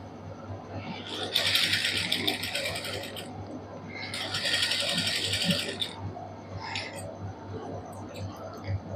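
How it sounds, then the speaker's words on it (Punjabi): A sewing machine stitching white lace onto fabric runs in two long bursts and one short one of fast, even whirring, close by, with quiet hum between runs and soft talking throughout. "ਇਸ ਤਰ੍ਹਾਂ ਹੌਲੀ ਹੌਲੀ ਕਰਦੇ ਸਲਾਈ ਲਾਉਂਦੇ ਆਵਾਂਗੇ"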